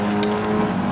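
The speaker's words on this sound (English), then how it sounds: "He seemed to enjoy his sports car" A sports car engine drones steadily at close range, a loud continuous motor tone with no pauses.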